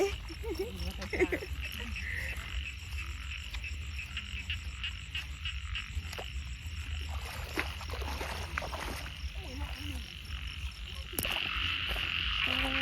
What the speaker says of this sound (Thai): ใช่ว่าเสียงกบวะ